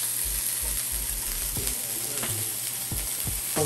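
Wagyu beef burger patties sear in a hot pan, a constant close sizzle broken by a few soft knocks and scrapes as they cook, with nobody talking.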